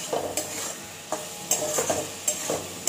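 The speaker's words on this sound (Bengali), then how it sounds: "ডিমটাকে ফ্রাই করে দিলাম" An egg fries in a pan with a soft, steady sizzle, and a utensil stirs and scrapes against the pan in regular close strokes, about one every half second.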